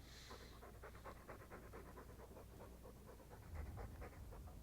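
Steady, rhythmic panting from a dog in the video game Dragon Age II, fast breathy puffs repeating without a break, soft and close.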